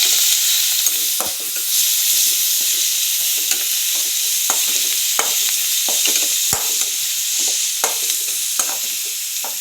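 Food sautéing in a frying pan, with tomatoes next in line: a steady loud sizzle runs throughout, broken by repeated scraping and clinking stirs of a spatula against the pan, with no talk.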